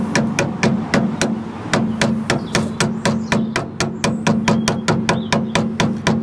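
A hammer strikes a screwdriver to tap out a front suspension part on a 1600 MGA under restoration, a fast, regular run of loud, close metallic blows repeating throughout with no talk.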